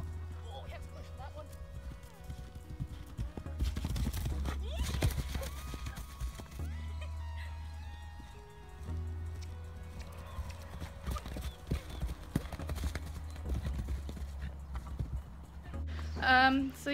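Horse hooves clip-clop in a steady walking rhythm as a horse is ridden around a yard, with a neigh and other farm sounds breaking in at moments.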